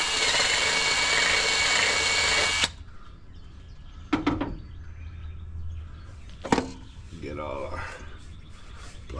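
Power drill with a bit enlarging a hole for an air temperature sensor on a car engine: a loud, steady high-pitched whir for about three seconds, then it stops, leaving brief clicks and a voice talking.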